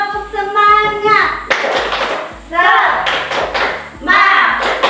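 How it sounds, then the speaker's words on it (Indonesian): Schoolchildren in a classroom stand and do a rhythmic Indonesian 'tepuk semangat' spirit clap: sharp, loud, patterned claps in groups, alternating with chanted voices and a teacher's speech. "Mari kita sama-sama tepuk semangat."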